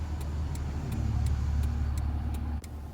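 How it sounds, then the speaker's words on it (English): A truck passing along a road, a steady low rumble that swells and then drops off abruptly near the end, accompanied by faint regular ticking. "Should we try after this truck passes?"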